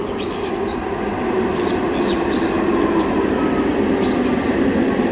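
An OC Transpo metro train in Ottawa rumbles steadily nearby, a continuous broadband roar of rolling wagons with faint higher squeaks, loud and unbroken throughout.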